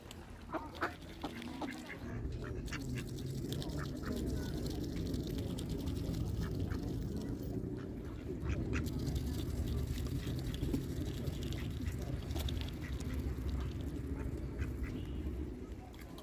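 Ducks quack repeatedly around a mill pond at Cromford in the Peak District, the calls fairly close over steady low rumbling background noise, with a voice talking briefly at times.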